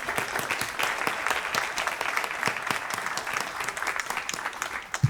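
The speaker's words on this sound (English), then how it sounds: "You also deserve a round of applause." Steady applause from a large audience at a 2025 commencement ceremony, continuous dense clapping with distinct individual claps standing out, moderately loud throughout and without talk.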